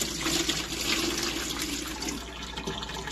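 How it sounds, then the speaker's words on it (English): Liquid from a pot of oxtail kare-kare soup poured down a kitchen sink, a steady rushing gush of water draining that continues throughout. "So I'm going to dump this out right down the sink"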